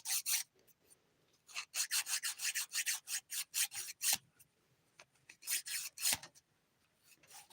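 A nail file rasps across a fingernail in quick back-and-forth strokes, heard in dense bursts separated by short pauses. The filing is close and crisp, with no voice over it.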